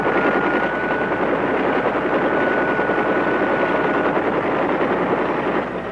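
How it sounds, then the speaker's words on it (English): Vietnam War helicopter gunships fly in combat, making a loud, steady rotor and engine roar with no letup and a slight fade at the end. "These choppers pack an impressive resource of firepower."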